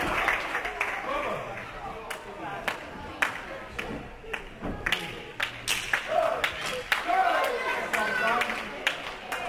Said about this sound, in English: this crowd in Wickford showed their appreciation